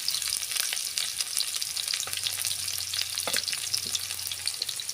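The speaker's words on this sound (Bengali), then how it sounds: "এখন পেঁয়াজ কুচি দিব, পেঁড়া কাঁচা ঝাল দিব," Chopped onion and green chili frying in plenty of hot oil for a chicken-stuffed pointed gourd dolma, a steady close hiss with a low hum joining midway and a few sharp crackles, no talking.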